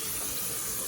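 Cold tap water runs steadily into a bowl, a close, even hiss of flowing water throughout the short moment with no voices over it.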